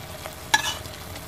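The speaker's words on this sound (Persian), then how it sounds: "گوجه و پوره گوجه فرنگی دارن خوب تفت میخورن، کم کم داره غلیظ میشه" Tomato and tomato puree sautéing and thickening in a pan for cheesy eggplant meatballs, a brief stirring scrape with soft sizzle over quiet background, one short louder stir near the middle.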